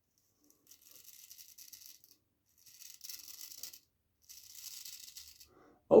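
An old Sheffield steel straight razor with a coticle-honed edge scrapes through three days of stubble in three separate strokes of dry, crisp rasping, each lasting about a second, with short silences between them.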